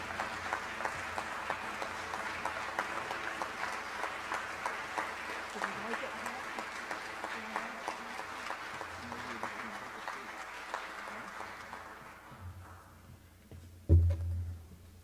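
Audience applause at an alumni recognition ceremony, a steady patter of many hands clapping that carries on at an even level for several seconds before tapering off, ending with a single loud thump near the close.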